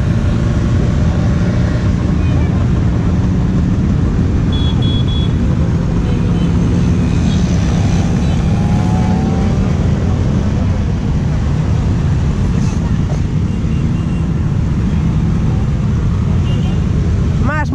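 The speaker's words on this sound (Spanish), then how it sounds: "Más motos, más motos," Motorcycles stream past in the flag parade at the Pingüinos 2019 rally in Valladolid, a loud, unbroken wash of engine roar and rumble from many bikes, close by, with faint voices underneath.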